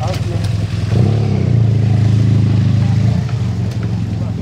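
A motorcycle rides along a French motorway in the left lane, its engine droning loud and close, rising into a sustained steady roar before easing off, with traffic noise around it.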